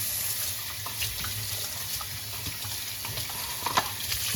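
Running tap water pours steadily into a pot, rinsing dirty hydroponic clay balls used for repotting hoya plants, with a continuous splashing rush and a few faint clinks.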